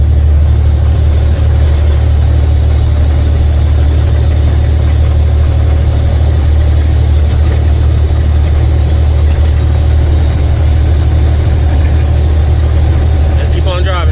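A vehicle engine drones steadily while driving up a windy mountain road, with a constant loud low rumble and road noise throughout and no breaks.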